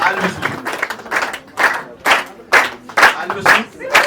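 An audience claps rhythmically in unison at a family celebration on a children's television programme, sharp, loud, close beats repeating about twice a second.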